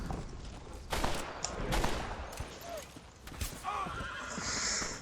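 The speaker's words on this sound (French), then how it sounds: "je suis sur un cheval, ne m'attaquez pas" Horse galloping in the Red Dead Redemption video game, with hoof clip-clops and a loud whinny amid bursts of gunfire and game effects, while people talk over it.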